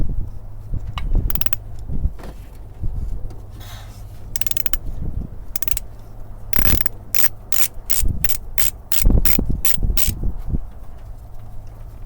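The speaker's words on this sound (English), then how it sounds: "Using a 21 millimeter socket." Ratchet with a 21 mm socket and short extension working loose a harmonic balancer bolt on a 3.7 or 4.7 Chrysler, Jeep, Dodge or Mitsubishi engine, a quick run of sharp evenly spaced clicks after scattered clanks and rubbing.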